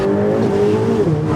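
High-powered sports car accelerating hard with its tires slipping, a loud close engine roar with a rising harmonic whine and a brief dip as the revs shift.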